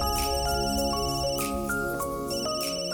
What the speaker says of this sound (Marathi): साहिल, महत्वाचा फोन आहे.